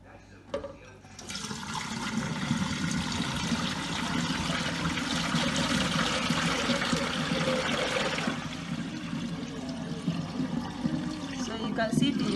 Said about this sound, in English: I'm going to remove the water.